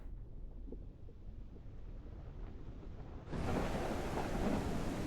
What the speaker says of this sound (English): You can just barely hear the sounds of the storm near the surface